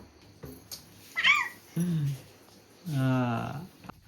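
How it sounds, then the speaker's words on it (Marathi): A cat makes a few short meows and a longer drawn-out yowl, with quiet pauses between the calls, up close. "आमची मांजर खेळते आणि मजा मस्ती चालली आहे"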